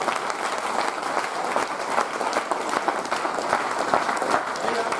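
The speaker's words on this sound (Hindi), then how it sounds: "पहले आप लोग ताली बजा दिए" A group of people clap their hands before a kabaddi game, a dense continuous burst of applause with a crowd murmur underneath.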